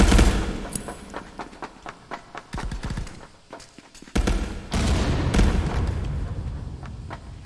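Gunfire in the VR shooter ContractorsVR, with scattered single shots at first and then heavier, denser bursts of shots that run together in a loud, continuous volley.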